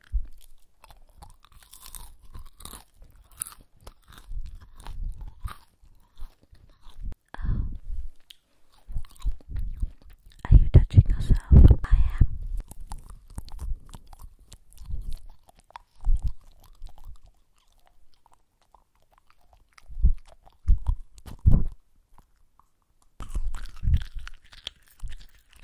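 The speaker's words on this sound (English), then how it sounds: "So he's in ASMR chewing." Someone chewing food up close for ASMR, with crunchy bites and moist mouth sounds in irregular bursts separated by quiet pauses, and no talking.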